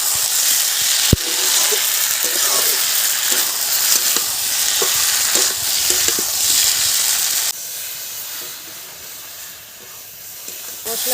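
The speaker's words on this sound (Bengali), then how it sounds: "মশলা কষা কমপ্লিট।" Spice paste with tomato and green chili sautés in a hot pan, giving a loud, close, steady sizzle and hiss with occasional spatula clicks and scrapes; the frying dies down noticeably partway through and then continues more quietly.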